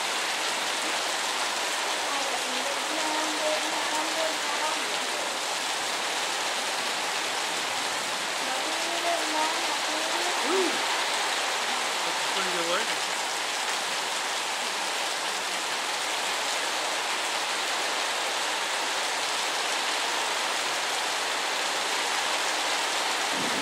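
Steady rain falls on a new roof, an even, close hiss of drops that continues unbroken for the whole stretch with no change in intensity.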